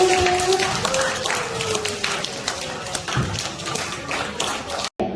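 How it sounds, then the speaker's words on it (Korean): Middle school students clap together at a school spirit day, a dense, steady wash of applause that holds for several seconds. A faint tonal voice or whistle drifts over it, and it cuts off abruptly near the end. "여러분 박수!"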